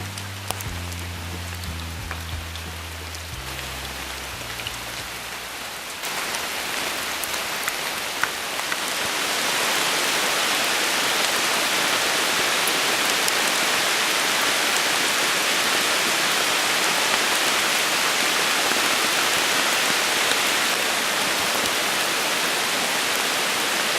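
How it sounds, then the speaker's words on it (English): Heavy, cold autumn rain pours steadily at a campsite beside a rock cliff, a dense, loud, unbroken hiss of drops hitting surfaces that swells after a softer, lower start and continues with no voices. "Just so happened on this trip, we got into an enormous amount of rain."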